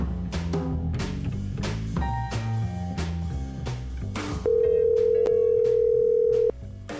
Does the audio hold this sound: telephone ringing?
yes